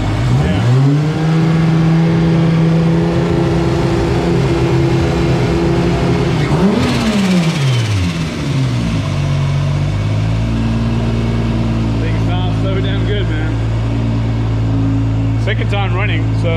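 Toyota Supra GT300 race car engine running after a rebuild, a loud steady drone that rises in pitch with a quick rev around the middle and then settles into a lower, even idle, with people talking over it.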